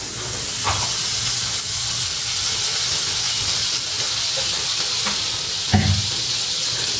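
Chicken pieces for a bread sandwich fry in butter and oil in a pan, giving a steady, close sizzling hiss with a few brief clicks and pops, no talking.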